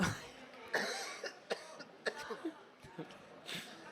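A few short coughs and throat-clearing sounds, close by and fairly quiet, scattered among brief bits of voice.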